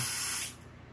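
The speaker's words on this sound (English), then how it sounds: "I'm gonna spray it again" A short, loud hiss of a Smoke Sabre aerosol smoke-detector test spray can, lasting about half a second before cutting off to quiet.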